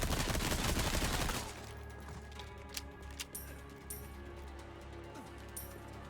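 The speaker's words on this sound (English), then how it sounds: "Use the shotgun." Shotgun blasts in Resident Evil 4 Remake, a loud burst at the start followed by several sharper, scattered shots over a low game ambience.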